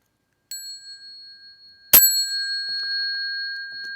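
A Buddhist ritual bell is struck twice to open a bell chant, a soft first tap followed by a louder, sharper strike whose bright ringing tone lingers and hums steadily in an otherwise quiet room.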